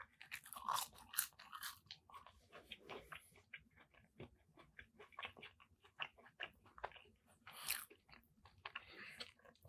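Wendy's fries, lukewarm and not very crispy, are chewed close to the mic, giving soft, irregular crunches and mouth sounds that are quiet and come in short clusters.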